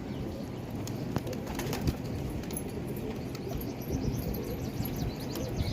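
Pigeons coo softly and flutter around a fair, with wingbeats and scattered chirps over a steady busy outdoor background noise, no voices.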